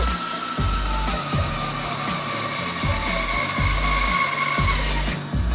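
A saw cutting through locally grown wood for a charcuterie board, steady rasping strokes in a regular back-and-forth rhythm, loud and close, with no talking.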